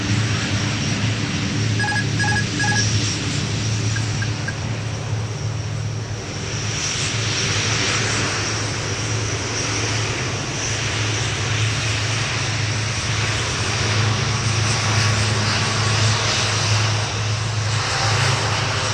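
An airliner powers up for takeoff on runway 30 right at Minneapolis–St. Paul airport, its engines a continuous loud roar and whine that holds steady throughout, with faint beeping tones early on.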